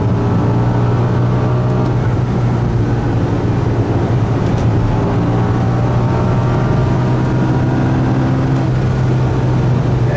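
An 800 HP G-Power BMW M5 V10 supercharged engine roars steadily with a building drone and wind noise as the car accelerates hard on the German Autobahn, loud and continuous with no talking.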